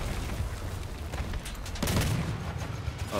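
Cannon shells fire in the vehicle combat game Crossout from a heavy tracked tank with two Elephant cannons, a dense rumbling fusillade of booms and impacts that swells louder partway through.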